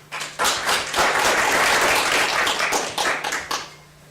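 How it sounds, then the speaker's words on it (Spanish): An audience at a science and technology lecture breaks into applause to welcome a speaker, with dense clapping that swells quickly, holds steady for several seconds, then thins out. "Si le damos la bienvenida con un aplauso."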